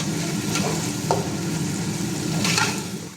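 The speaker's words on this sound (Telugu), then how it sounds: "ఇవి బాగా వేపుకోవాలి నూనెతో బాగా వేగాల టైం పడుతుంది" Spices fry steadily in hot oil for a fenugreek leaf biryani, a continuous close sizzle with a few faint stirring scrapes and light clinks, no voices.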